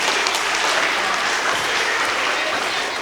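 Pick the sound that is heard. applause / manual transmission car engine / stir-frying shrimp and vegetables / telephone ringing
applause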